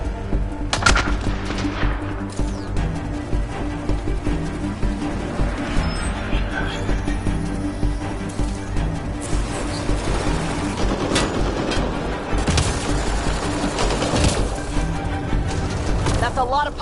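Gunfire in the Mass Effect: Andromeda video game during a fight with pirates, with repeated close shots and rapid bursts over a dense battle ambience, and voices talking at times.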